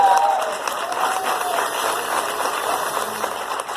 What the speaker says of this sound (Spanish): Bríndele ese fuerte aplauso al Señor.